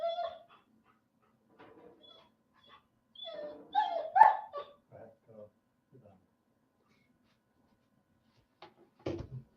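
A pet dog in a home whimpers and yips in short, faint, high bursts scattered across the clip, with brief spells of quiet between them and a person's voice nearby.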